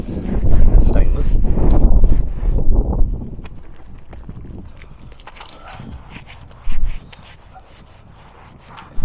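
Wind buffets the microphone on a narrowboat, heavy low rumbling gusts at first that ease off into quieter rustle, with someone talking and occasional knocks.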